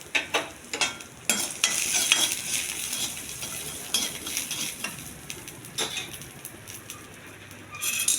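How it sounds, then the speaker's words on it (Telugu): Dry red chilies, cumin, mustard seeds and garlic fry together in oil for a stir-fried amaranth dish: a soft crackling sizzle broken by repeated metallic clinks and scrapes of a spoon against the pan, with no talking. "ఎండుమిర్చి, జీలకర్ర, ఆవాలు ఇవన్నీ ఒకేసారి వేసేయాలి. కొంచెం దోరగా వేగే వరకు వెల్లుల్లిపాయలు"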